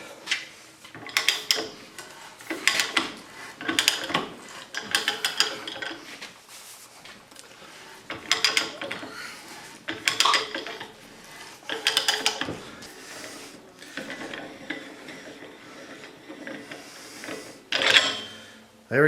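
Pipe being cut with a Rothenberger threader and threading oil, a series of rough, intermittent grinding and metallic scraping bursts that come and go under shop ambience.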